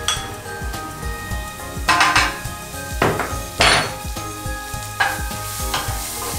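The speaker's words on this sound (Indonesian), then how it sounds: "sekarang ini tumis-tumis hingga sedikit layu" Chopped spring onions stir-fried in a hot pan for savory mushroom martabak, steady sizzling with scraping spatula strokes and occasional clinks against the pan, no talking.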